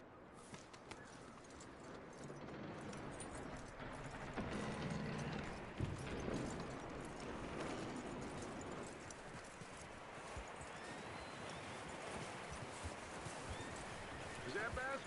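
Horse hooves clip-clopping steadily in Red Dead Redemption 2, with a whinny and ambient birdsong over a constant outdoor background, fairly quiet throughout.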